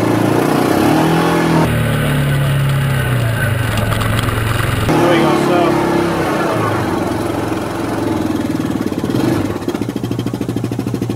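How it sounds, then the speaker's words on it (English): Yamaha Viking UTV engine revving hard in two-wheel drive as it tries to climb a hill off road, a loud steady mechanical drone with surging pitch changes while the rear wheels spin without gaining ground. "When I come to set off, I'm expecting the rear wheels to start to spin."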